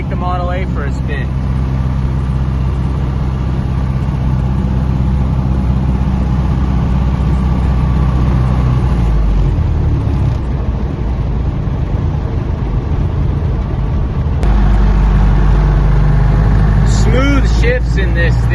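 A 1932 Ford car cruising with its engine running steadily, a continuous low drone and rumble from inside the car that swells slightly toward the end, with a voice talking over it.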